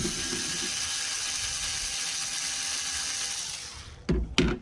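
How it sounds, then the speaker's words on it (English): Screws and nuts are being driven off a circuit board with a tool. A continuous whirring, ratcheting sound fades, then two sharp, loud clacks come near the end, with no talking. "We've got more screws and nuts on this one to get off of here."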